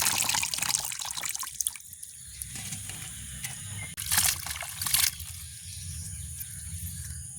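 Water splashes and trickles continuously, with bursts of sloshing as mushrooms are rinsed and stirred in a basin.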